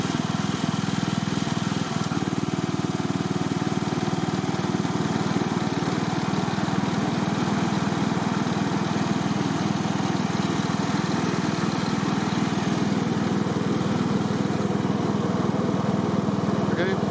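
A lawn tractor's small engine runs steadily after a clutch adjustment, a constant, close, droning hum with a low rumble that holds unchanged at moderate loudness throughout.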